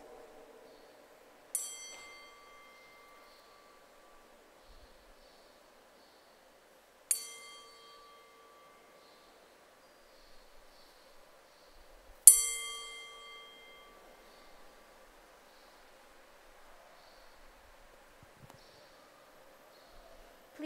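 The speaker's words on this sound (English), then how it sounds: "at each sound of the gong, we shall render the three ceremonial bows to revere our ancestors" A gong is struck three separate times during ceremonial bows honoring ancestors at a church service, each stroke ringing out clearly and decaying slowly over a quiet, low room murmur.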